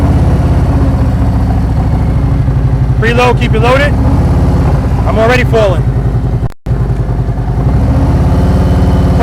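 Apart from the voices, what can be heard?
motorcycle engine started and idling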